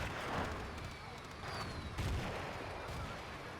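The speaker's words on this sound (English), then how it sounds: "And the artillery will drop." Artillery strikes in a Battlefield 2 match land as a dense, rumbling barrage of distant booms and gunfire, heavy and continuous throughout.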